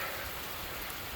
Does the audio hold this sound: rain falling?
yes